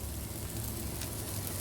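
Spam and pork sizzle loudly in a pan in a TV commercial, a dense, steady crackle and hiss with no pauses.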